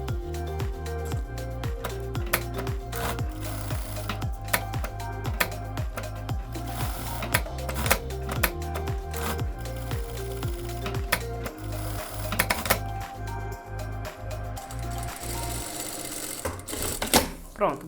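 A sewing machine topstitches flared trousers in fast, rhythmic bursts of mechanical chattering, pausing briefly between runs, close and clear.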